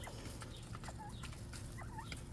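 Little birds peck and scratch through a salad mixed with seeds and worms, with soft chirps and clucking calls over steady background noise, close by and continuous.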